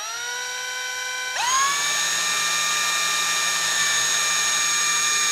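A power drill with a bit bores out old plastic screw posts inside a Commodore 64 case, starting with a steady high whine that jumps in pitch and then holds a loud, continuous tone.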